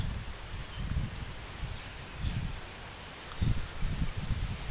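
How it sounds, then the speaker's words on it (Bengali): Cyclone winds roar steadily through large trees, with low gusty rumbles swelling and fading against a constant broad rush and faint rustling of leaves. "বাতাস বইছে"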